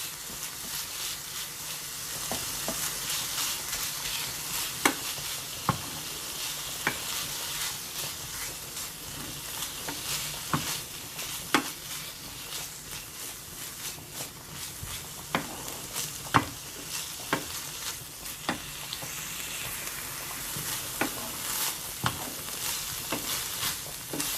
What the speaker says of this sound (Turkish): öncelikli olarak kıymamızı tavamıza aldık ve suyunu çekinceye kadar pişiriyoruz